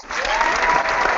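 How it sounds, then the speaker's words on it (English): A short burst of audience applause plays as a sound effect, dense, loud clapping from a crowd lasting about a second. "Oh, by the way, the audience wanted to applaud before for what you said, Steve."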